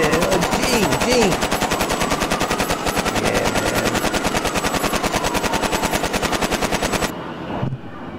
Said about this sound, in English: There's some shooting going on